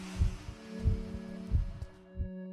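In the horror game Aka Manto, a loud heartbeat plays when the glowing mask notices the player. Four deep, thudding double beats repeat in a slow, steady rhythm over a low hum.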